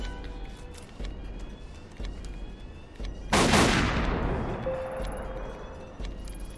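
A single loud gunshot blasts a lock in the video game Tokyo Dark, a sharp crack with a long ringing decay over a quiet ambient background.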